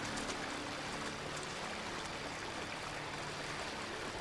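Steady river water flowing in the video game Elex, a constant broadband rush that stays even and unbroken throughout, with no voices over it.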